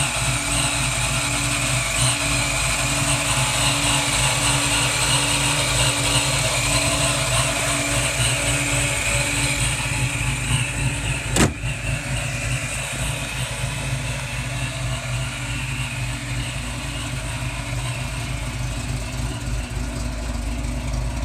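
A Vortech S-Trim supercharger on a Foxbody Mustang holds a steady whine over the engine's idle, continuous and fairly even throughout, with a single sharp click partway through.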